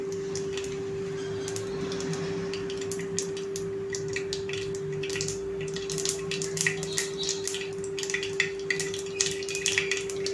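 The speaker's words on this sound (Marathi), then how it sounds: "जिरी मोहरी तडतडू द्यायची छानपैकी." Cumin and mustard seeds crackle in oil in an aluminium pan, a steady bed of fine sizzling with scattered sharp pops that grow busier toward the end, close and moderately loud, with no voices.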